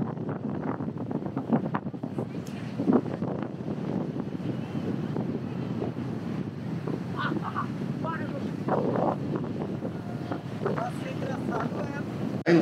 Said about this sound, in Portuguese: tinha muito vento na beira da praia